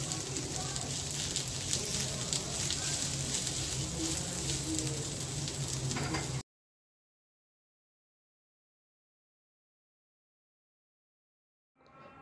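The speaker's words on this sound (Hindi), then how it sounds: "पैन में 1/2 चम्मच ऑयल डालेंगे, उसमें हम प्याज को भूनेंगे अच्छे से।" Onions fry in half a spoon of oil in a pan, giving a steady, dense crackling sizzle up close that stops abruptly partway through, followed by silence and then a brief return.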